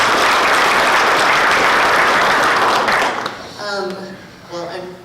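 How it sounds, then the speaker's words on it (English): A crowd at a business forum gives loud, dense applause for a presenting company executive, sustained for about three seconds before fading out as a voice starts talking over the tail end. "Let's give her a big round of applause."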